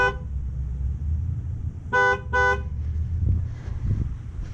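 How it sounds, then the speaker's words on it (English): A GM vehicle's car horn sounds once briefly, then twice in quick succession, during a tire pressure sensor relearn in a garage, loud short toots over a low idle hum. "it's gonna honk like that when that tire's relearned, and then it'll honk twice"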